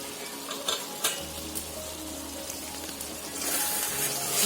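Flat bean paturi mixture boiling and bubbling in a pan makes a soft, continuous sizzle with a few light utensil taps, swelling louder near the end.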